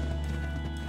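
Horse hooves from the video game ARK: Survival Evolved, a dense, steady patter of clip-clop footfalls over loud game ambience for about a second, with no talk.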